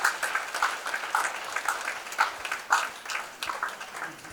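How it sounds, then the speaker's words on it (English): An audience at a Catholic Archdiocese of Lagos family and human life gathering claps in a moderate, uneven round of applause, steady throughout with scattered louder claps, heard from a distance. "Let us give her a full FHLU round of applause."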